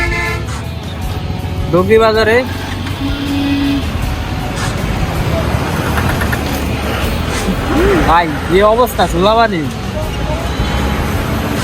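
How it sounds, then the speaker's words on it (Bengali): Traffic jam at Dogri Bazar heard from a motorbike: a steady roar of idling and creeping cars and buses with short car horn toots scattered through, loud and close, while someone talks over it. "এইখানে আমরা জ্যামের ভিতরে চলে আইছি"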